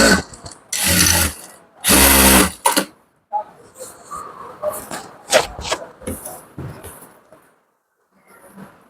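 Sewing machine stitching the seam of a ladies' pant, two loud sustained whirring runs of about a second each, followed by softer clicks, handling and shuffling of fabric at close range.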